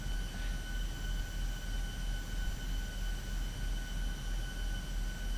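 Boeing 737 engines in X-Plane 12 spool up for the takeoff roll, a steady, loud broadband roar with faint high whining tones held evenly throughout and no voices.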